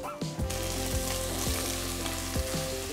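Chopped onion with ginger garlic paste frying in a pan for a fish curry, a loud continuous sizzle with a low humming tone and a few brief stirring sweeps.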